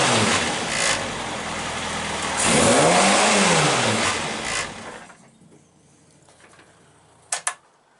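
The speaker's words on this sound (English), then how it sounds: "Let's give it a quick blip, see how it sounds." A car engine revved from cold before a race meeting at Castle Combe, a steady idle rising into a quick blip that swells and falls, then dropping away to near silence with a couple of sharp clicks at the end.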